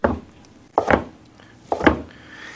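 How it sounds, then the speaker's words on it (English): A knife cuts seitan into small strips on a cutting board: three distinct, fairly loud chops spaced roughly a second apart. "we're going to cut them into small strips"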